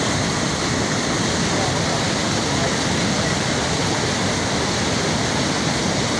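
Floodwater pours over a low road bridge in Karamoja, a loud, steady broadband roar of rushing water that fills the whole stretch without pause.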